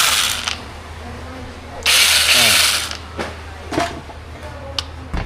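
A small chainsaw runs at a surplus power tool store, giving one loud, rough burst about a second long that winds down quickly, followed by scattered mechanical clicks and rattles.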